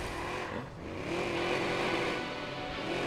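A game car engine revving in Watch Dogs while driving, holding a steady, loud drone with a rising pitch sweep and no voices.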